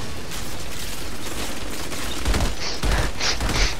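Gunfire in the video game Outriders, a loud dense stream of rapid shots with heavier bursts and sharp metallic impacts toward the end, continuous and without talking.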